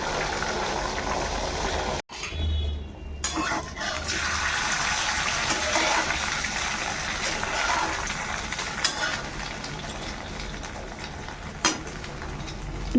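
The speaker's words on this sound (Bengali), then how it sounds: "তেলটা হয়ে গেছে এবার এর মধ্যে এই ডিমটা ঢেলে দেব ডবল ডিমের একসাথে করবো" Beaten eggs, two together, poured into hot oil in a pan, setting off a steady loud sizzle and crackle of frying that carries on throughout with a brief pause near the start.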